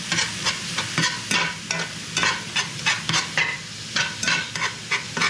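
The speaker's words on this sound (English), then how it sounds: "I'm going to go ahead and mix that in" A spoon scrapes and clacks rhythmically against a pan as seasoning is mixed into a sizzling pepper filling, the stirring strokes repeating steadily over a constant frying hiss up close.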